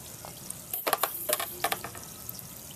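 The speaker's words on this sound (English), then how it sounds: "I'm really assuming this is all just moisture boiling out of this thing" Moisture boils out of a flyback transformer submerged in hot wax, giving close crackling and sizzling with irregular bursts of popping over a steady hiss.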